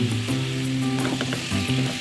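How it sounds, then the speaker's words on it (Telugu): Cut eggplant frying in oil with salt and turmeric, a close, continuous crackling sizzle over a low steady hum, with no talk. "కట్ చేసి పెట్టుకున్న వంకాయలే ఆయిల్ వేసుకొని కొంచెం సాల్ట్ కొంచెం పసుపు"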